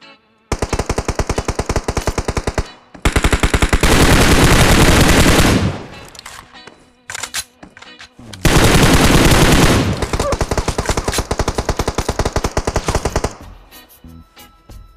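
Heavy automatic gunfire in the battle royale video game PUBG, long rapid bursts of close, loud shots with brief pauses between them and a few scattered single shots.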